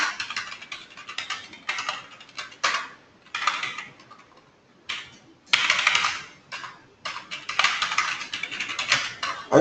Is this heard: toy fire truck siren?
no